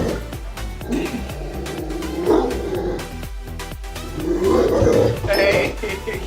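A dog barks and growls at its own reflection in a mirror, in short, uneven bursts mixed with music and a voice talking.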